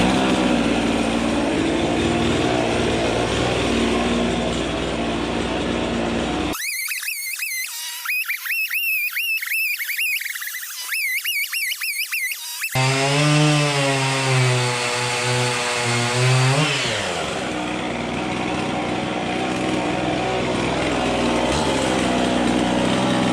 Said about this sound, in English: Being that compression is messed up or weak on that saw, it kind of idles high.